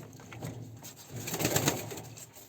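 Caged pigeons coo softly in low, repeated throaty calls, close by and quiet, with no voices present.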